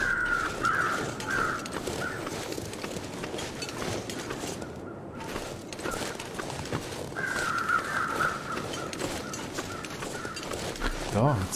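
Crows caw repeatedly in the video game The Long Dark, harsh calls coming in bursts near the start and again later, mixed with footsteps, ambient game noise and someone talking over much of it.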